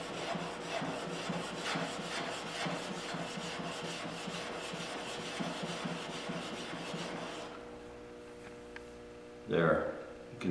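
A corner chisel is rubbed back and forth on a sharpening stone in steady, rhythmic gritty strokes for about seven seconds, close and moderately loud, then stops before a brief knock.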